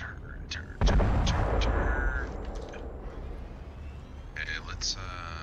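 Video game gunfire as enemies are shot: a heavy blast followed by scattered sharp reports and pops, with game sounds and chatter mixed in over a muffled background.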